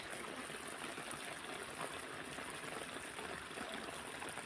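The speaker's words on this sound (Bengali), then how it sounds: "এই দেখুন বুঝছেন, মেশিন, পুকুরটাতে জল ফেলা হচ্ছে।" A pump machine pours water into a rural pond, a steady rushing stream of splashing water heard from a distance, constant and fairly faint.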